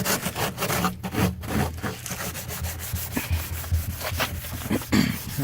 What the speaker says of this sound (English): hit it up with some Scotch-Brite, especially this little area right here where we did the stud puller on it